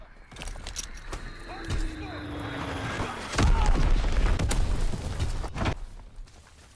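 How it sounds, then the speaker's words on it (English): Bomb blast in the World War II shooter game Call of Duty: WW2: a deep boom erupts midway and rolls on in loud rumble, surrounded by scattered battlefield clatter and other game effects. "Enemy bomb incoming! Get to cover!"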